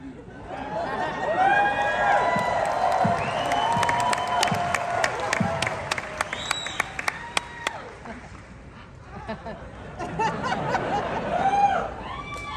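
A large Hall H audience at San Diego Comic-Con cheers, laughs and murmurs steadily beneath an amplified speaking voice, with brief applause swells and whoops rising and falling throughout.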